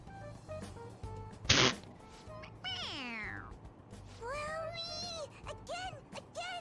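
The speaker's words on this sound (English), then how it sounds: "It meows when you press on its head." Stuffed animal toy meowing when pressed in Persona 5 Royal, several short cat-like meows in a row, with a sharp rustle before them and game music underneath.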